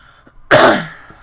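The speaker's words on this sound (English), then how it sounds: "Still have a little bit of this cough." A single sharp cough up close, a short burst that fades quickly, from a person still getting over a lingering cough.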